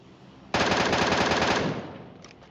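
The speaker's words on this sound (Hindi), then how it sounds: "अब आखिरकार मैं गोलियां चला सकता हूं" Rapid automatic gunfire in the mobile shooter PUBG Mobile, one loud burst of about a second followed by a fading echo and a few faint distant shots.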